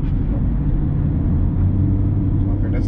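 A Hyundai Accent that struggles to accelerate gives a loud, steady low engine rumble under way, with no clear gear-change break heard.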